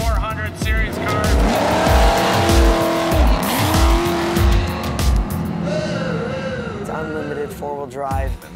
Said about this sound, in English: we hear the motors firing up in the 4400 series car